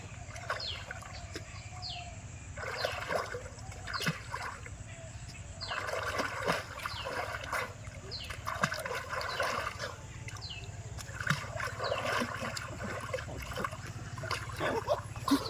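Child swimming and splashing in warm water in the late afternoon, bursts of close splashes in uneven clusters over a steady low hum, with occasional faint bird calls and people talking nearby.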